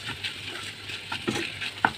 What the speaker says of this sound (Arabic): هنشوح فيها كده برضو